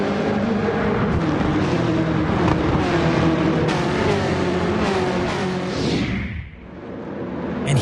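A pack of race cars roars past on a Tokyo expressway circuit in the V8 SCS racing game, engines droning loudly and steadily before one sweeps by with a falling whoosh as it recedes.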